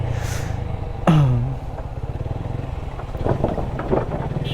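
A motorcycle ridden along a road in Keraniganj near Dhaka, its engine droning steadily close by with a sharp rising rev near the start and rattling clatter as it rolls on.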